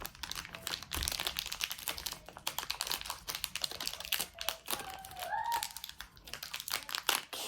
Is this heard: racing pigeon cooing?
no